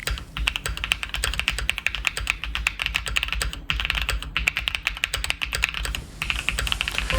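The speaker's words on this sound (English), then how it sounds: "I'm gonna let you hear in on what a good keyboard actually sounds like." Rapid, steady clacking of a mechanical keyboard being typed on up close, with brief pauses between bursts of keystrokes.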